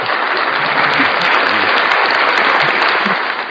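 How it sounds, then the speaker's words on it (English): Recorded clapping plays from a sound machine as a dense, even burst of applause, loud and continuous for a few seconds before tapering slightly. "Do you have your machine that plays the clapping noise?"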